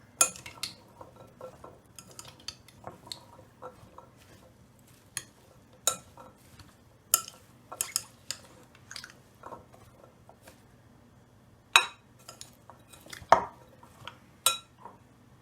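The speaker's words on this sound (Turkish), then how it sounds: "Şu kaşıkla bir karıştırayım." Spoon stirring grated garlic into yogurt in a bowl, heard as scattered light clinks and scrapes spread through a quiet stretch, with a few sharper taps near the end.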